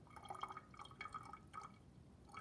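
Liquid is poured into a glass volumetric flask, giving faint, close trickling and dripping as it fills.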